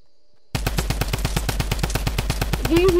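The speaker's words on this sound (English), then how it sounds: "Do you hear my shots?" Rapid automatic gunfire in an online shooter video game, a steady stream of sharp close shots after a brief silence, with a voice rising briefly near the end.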